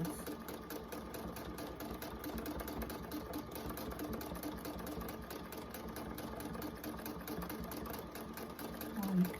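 A sewing machine stitching small back-and-forth lines for thread painting on a fabric collage, a fast, even mechanical chatter, close and steady, with a slight rise at the end.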